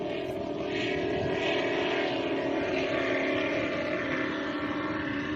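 Racing catamaran with twin 4.6 litre quad-cam V8 Mercury four-stroke outboards, at a Super Cat Extreme race in Adelaide, droning steadily with a dense, continuous engine roar at moderate distance, heard alone.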